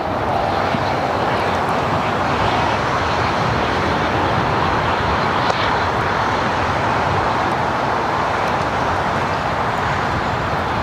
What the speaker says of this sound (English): Looks like we have another Delta A350. That one heading to Paris, flight 290, heading to the south for a takeoff.